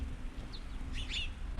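Birds chirp in a snowy yard during winter frost, a few brief high tweets near the end over a steady low outdoor rumble, faint and distant.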